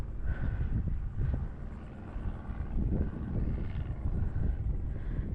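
Airplanes flying overhead above a lake on the Fourth of July, a steady rumbling roar of engines that swells and fades gently throughout, with faint wind and no talk.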